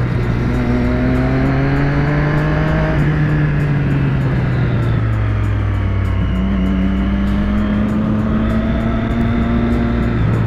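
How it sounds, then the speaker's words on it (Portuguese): A Yamaha DT motorcycle engine drones steadily on a potholed street, its pitch rising and falling as it rides away, loud and continuous without speech. "Maninho vazou embora. É uma DTzinha, eu acho"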